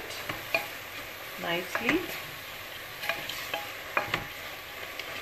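Beetroot greens mixed with heaped coriander powder and salt in a pan, giving soft scraping stirs of a spoon against the metal in irregular strokes over a faint sizzle, with a brief spoken word.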